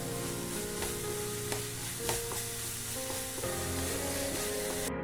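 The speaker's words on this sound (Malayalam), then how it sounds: "ഇതിൻ്റെ ഒരു പച്ച മണം പോകുന്നത് വരെ നല്ലോണം വഴറ്റി കൊടുക്കണം" Masala being sautéed in a pan for a no-oil prawn snack gives a steady, close sizzle with a few stirring scrapes under a constant background hum.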